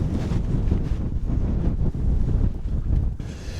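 Strong wind buffeting the microphone at a wild camp on Mynydd Mawr mountain, loud, continuous gusty roaring with rumbling surges and no speech.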